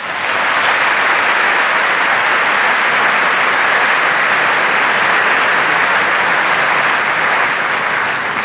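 A large audience at the Tour de France 2013 presentation applauds Paul Giacobbi, president of the Corsican executive council, with loud, sustained, even clapping filling the hall.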